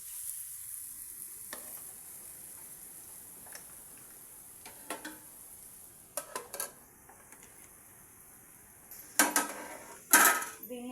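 Sesame curry cooks covered in a pan with a faint, steady sizzle, broken by sharp ticks and a few louder clacks of a spoon or lid near the end, close and otherwise quiet with no talk.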